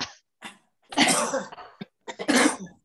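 A few short, sharp coughs in quick bursts, close to the microphone, with brief pauses between them.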